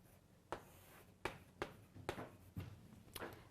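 Writing on a board in a biology class, quiet and close, with about six sharp tapping strokes spaced unevenly over a soft background and no speech.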